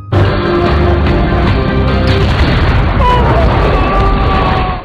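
A loud, sustained blast roars and rumbles for several seconds, dense and booming like a grenade explosion, with crackling debris throughout.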